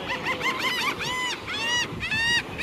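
Geese honk loudly and repeatedly at close range while being fed at a beach, a rapid flurry of overlapping calls that gives way to longer, drawn-out honks.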